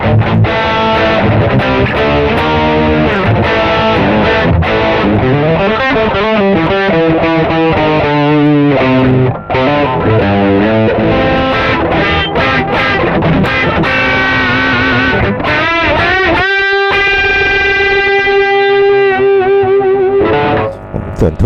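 Loud distorted electric guitar riffs through an Azor AP-506 distortion pedal, played with single-coil pickups, chugging then ringing out into sustained heavy chords, with a faint voice briefly near the end.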